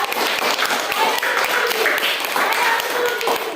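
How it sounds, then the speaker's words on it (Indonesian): A group claps their hands together on cue, steady close clapping running throughout with scattered individual claps standing out, and voices mixed in beneath. "tepuk tangan semua"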